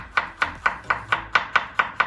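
Garlic being chopped with a knife on a board, nine crisp, evenly spaced chops in a steady rhythm, close and loud, with no talk.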